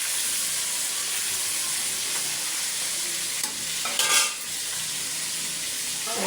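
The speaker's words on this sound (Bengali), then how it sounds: "দেখেন আমি কি সুন্দর করে বয়লা মুরগিগুলো ভেজে নিচ্ছি।" Broiler chicken pieces frying in hot oil in a pan, a loud, continuous hiss and sizzle with a couple of brief stirring scrapes, close and unbroken, with no talk.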